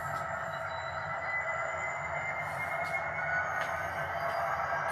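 A model GO train runs along its track with a steady, continuous whirring hum that holds even throughout, close by and without talk.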